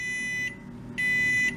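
Frigidaire refrigerator sounding two steady electronic beeps of about half a second each, separated by a short pause, fairly clear over a low background hum.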